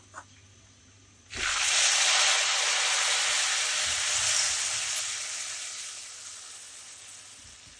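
Tomato paste hits hot butter and garlic in a pan with a sudden loud sizzle after a quiet start, then a steady bright hiss that slowly fades a little.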